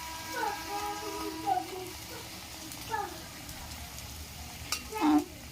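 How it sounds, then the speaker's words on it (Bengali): Luchi deep-frying in hot oil in a home kitchen, giving a soft, steady sizzle with a few louder bursts, while voices talk faintly in the background. "তো এই যে আমার লুচি ভাজা হচ্ছে"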